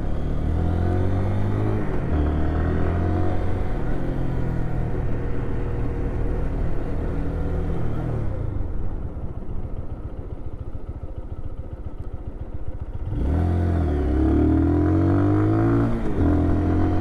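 A Lifan KPR 200 motorcycle engine runs close by with a steady, rumbling drone and a rattling exhaust. The note drops to a softer idle midway, then rises again toward the end, with no talking.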